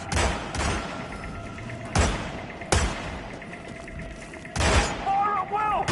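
Gunfire in the Hitman video game: several loud, close bursts of shots land over a busy background, with voices and a metallic ringing tone near the end.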